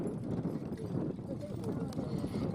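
Hooves of a team of horses pulling a plough at a ploughing match in East Kent, a steady soft clip-clop over churned field ground, moderately close, with people talking over it throughout.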